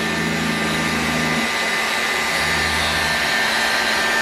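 A heat tool blows hot air at a model engine part held in a vise: a close, loud, steady whooshing roar that runs unbroken for about four seconds.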